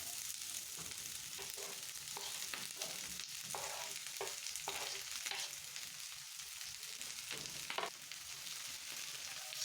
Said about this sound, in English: After your oil has become hot, add in the onions, your finely sliced onions.